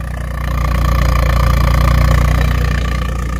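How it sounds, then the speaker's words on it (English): A car engine idles steadily and fairly loud up close, with a smooth, even low throb and a slightly rough, tractor-like tone throughout. "Idle's a lot smoother."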